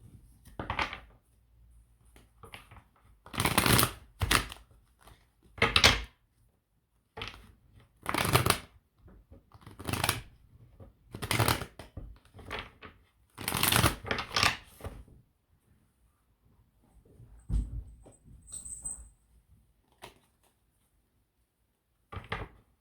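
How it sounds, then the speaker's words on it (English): Tarot cards are shuffled by hand in repeated bursts of crisp riffling and slapping, with short pauses between them. The sound is close and clear, and a few quieter handling noises come in near the end. "These cards have been a nightmare to shuffle today."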